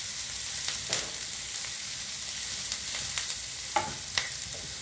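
Onions fry in a pan with a continuous soft sizzle, punctuated by a few brief scraping stirs and light clinks, fairly quiet and close, with no voices over it.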